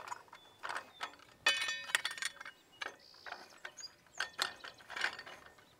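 Clamps on a two-wheel tractor torsion weeder are loosened and shifted, giving quiet, close, irregular ratcheting clicks and metallic clinks in short bursts, with no voices.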